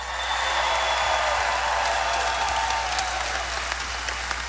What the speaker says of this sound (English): So give him another round of applause for Chief Wiley of West Melbourne.